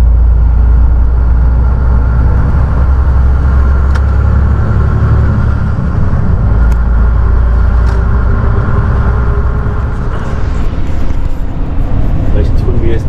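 Heavy truck pulling a trailer, about 53 tonnes, droning steadily as it drives along a road beside the Rhine; a loud, continuous low engine rumble with road noise fills the whole stretch, with a voice speaking over it.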